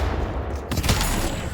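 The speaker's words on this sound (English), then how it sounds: "So you're just shooting both barrels at once." Shiv's double-barrel scatter shot in the video game Deadlock fires both barrels at once, producing a single sharp, loud blast about midway through, over a rough wash of game noise.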